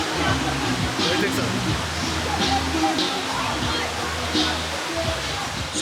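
Benta Falls pours down in a wooded setting, a dense constant roar of rushing water nearby, with people talking faintly underneath it.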